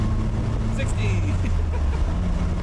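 A Nissan 200SX with a 130-horsepower engine drives uphill, its engine a steady loud drone close by with road and wind noise throughout, while someone talks over it.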